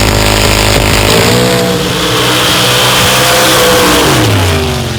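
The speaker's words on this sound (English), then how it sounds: "Spitting a little flame there on the starting line. A couple backfires" Modified drag race car on the starting line of a drag strip, engine roaring and revving hard with sharp popping backfires, loud and close throughout with pitch rising and falling.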